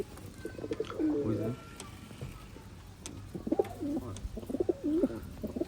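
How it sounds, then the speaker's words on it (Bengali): Khulna highflyer pigeons coo in soft, throaty, rolling phrases, two bursts separated by a pause, close by against a faint background. "এই হচ্ছে একটা চট কবুতার দিবাংশু দাদার"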